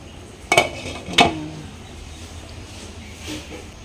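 A metal pot lid and spoon clink twice, sharp and close, while chicken curry with coconut milk is uncovered and stirred, then a quiet simmering hush follows.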